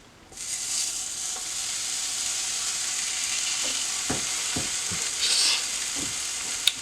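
Gouda cheese fries on a hot griddle with a steady, close-up sizzle that holds evenly throughout, with a few soft taps and scrapes near the middle.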